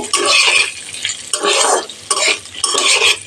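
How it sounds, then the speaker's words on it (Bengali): Boiled potato pieces frying in a pan, stirred in three distinct bursts of scraping and sizzling with short quieter gaps between, close and fairly loud. "নেড়ে দিলাম আলু লাল লাল করে ভেজে নিচ্ছি"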